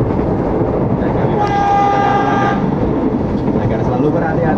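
A KRL commuter train stops at Gawok station: a loud, steady rolling rumble fills the whole clip, and a sustained high tonal squeal or horn rises in the middle for about a second, with faint voices in the background.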